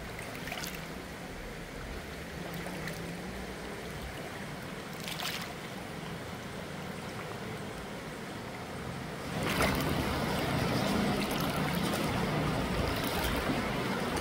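A river flowing in the countryside, a steady rushing wash of water that swells louder in the second half, with a few brief bursts of noise and no talk.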